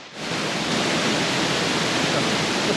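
A flooding stream rushes past in a loud, constant broadband roar of flowing water, close by and with no talking.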